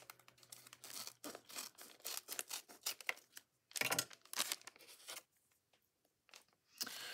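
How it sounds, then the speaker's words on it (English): A scrapbooking club package is cut open with scissors and torn: quiet, close, irregular bursts of snipping, rustling and crinkling plastic, separated by short pauses. "let's see if I can cut this open."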